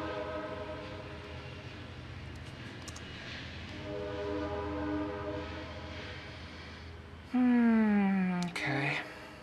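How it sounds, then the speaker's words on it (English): A passing train heard from indoors, a continuous low rumble rising and falling, then a loud horn blast with a falling pitch and a shorter second blast near the end. "Hey, train."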